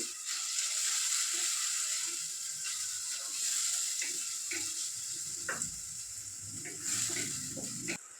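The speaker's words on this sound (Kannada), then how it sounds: "ಈ ಮಸಾಲೆ ಎಲ್ಲ ಚೆನ್ನಾಗಿ ಫ್ರೈ ಆಗಿದೆ" Masala frying in a clay pot over a medium flame gives a steady, close sizzle and hiss, broken by occasional scraping and clicking stirs. No one speaks.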